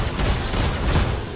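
A ship's weapon fires in Star Citizen, with a Gladiator rental ship coming in on an attack run. The bursts are dense and loud, with heavy low rumble and crackling, and no one speaks.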